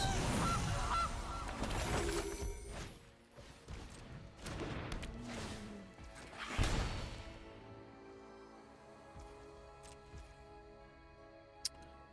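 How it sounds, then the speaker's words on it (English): Honking goose sound effect from the digital card game MTG Arena: a cluster of loud, brassy honks and squawks in the first seconds, then a swelling burst, fading into quieter game chimes and ticks. "The goose."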